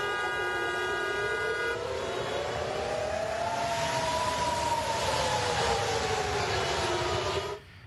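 A wailing warning siren sounds over Tel Aviv during an Iranian missile attack. Its tone rises and falls in long, slow sweeps, loud and continuous over a steady background hum, then stops abruptly near the end.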